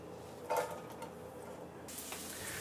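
Onion softening in a pan for Damietta-style fuul gives a faint, quiet sizzle, broken by a single utensil clink early on, with the hiss brightening and thickening toward the end.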